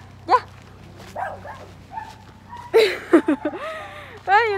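A dog barks at a runner on a seaside promenade, a few short sharp yaps and whimpers close by, with the runner's voice briefly heard between them.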